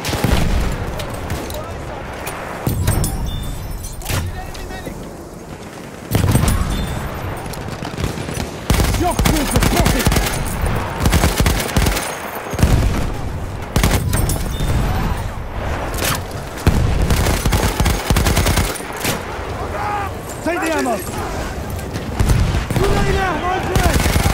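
Rapid bursts of machine gun fire and booming explosions in a combat video game, dense and continuous over roughly twenty seconds, with in-game voices shouting callouts and the occasional grenade blast mixed into the chaos.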